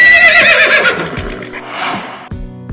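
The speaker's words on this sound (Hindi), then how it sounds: "Horse. This is horse." A horse gives one loud, close neigh that rises and then falls away, followed by a short snort, with no voices.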